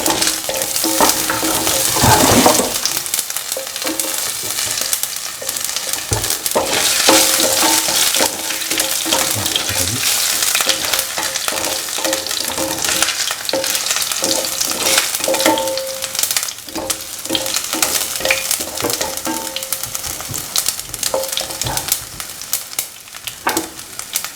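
Garlic, ginger and mustard seeds fry in a pan for a pickled beans dish, giving a steady, loud sizzle with scraping stir strokes and occasional pops throughout, with no talking.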